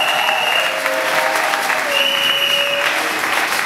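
A church congregation applauds and cheers in acclamation, a dense, steady wash of clapping with raised voices and a sustained tone running through it, loud and continuous throughout.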